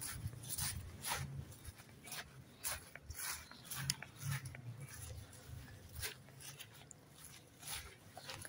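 A dog being taken home makes faint whimpers and small sniffs among rustling, soft bumps and a zipper-like scrape, irregular and close over quiet background noise.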